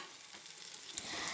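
Prawns and masala being stirred together in a frying pan for a prawn roast, a steady low sizzle with soft scraping of the spoon, growing a little busier toward the end.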